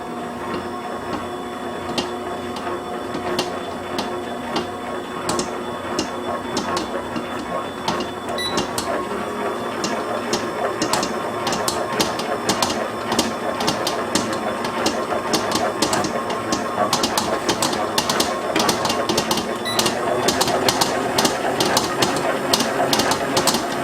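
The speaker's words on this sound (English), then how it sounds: "This way I don't have to knead the bread. My mixer will do it for me." A stand mixer kneads bread dough for breakfast rolls with a steady mechanical whir and a rapid, irregular knocking as the dough slaps around the bowl, continuous and moderately loud throughout.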